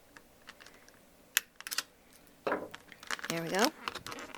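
Thin packaging wire is snipped and pulled off a Disney Store Beast figurine from Beauty and the Beast, giving close, quiet clicks, crinkles and rustles, with a brief spoken remark near the end.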